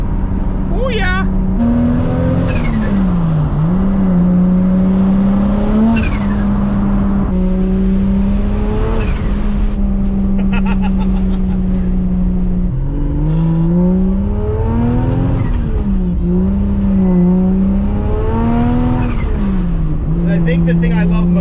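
A modified 600 hp MK4 Toyota Supra sports car engine revs hard and climbs through its gears again and again, loud and close, with the pitch rising and dropping at each shift.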